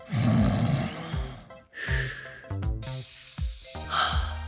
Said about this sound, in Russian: Храп – это шумное, грохочущее звучание, возникающее во время сна.